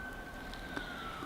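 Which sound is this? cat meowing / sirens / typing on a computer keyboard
sirens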